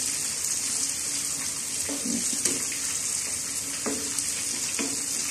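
Fish curry heating in a pan on a stove, a steady bright sizzle and bubbling hiss with a few soft clinks and stirring sounds throughout.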